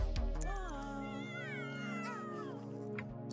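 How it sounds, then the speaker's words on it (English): A cat in The Sims 3 meows loudly and insistently, one long drawn-out yowl with rising and falling pitch, close and clear with nothing else over it. "Cat's being noisy."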